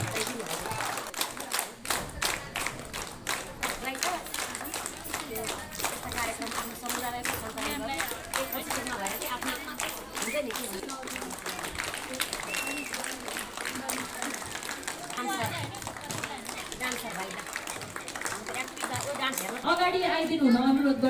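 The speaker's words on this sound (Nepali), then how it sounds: "ताली बजाइदिनु होला सबैजनाले" Sustained applause from an audience at a school program, dense rapid clapping that keeps going at a steady level for a long stretch and swells slightly near the end, with voices faintly mixed in.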